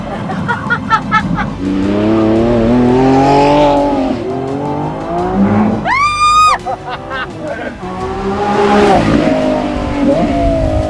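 A Lamborghini Revuelto hybrid sports car engine revs loudly and close, its pitch rising and falling through gear changes, with a sharp high whine in the middle and voices underneath.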